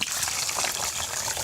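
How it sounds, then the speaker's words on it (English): Warm water pouring into a plastic spray bottle, a steady faint gushing trickle with no break throughout. "add some warm water to the spray bottle"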